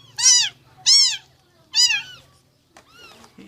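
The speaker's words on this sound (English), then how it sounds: "newborn cat, no mother." A motherless newborn kitten gives three loud, high, close meows spaced about a second apart, followed by fainter, softer cries.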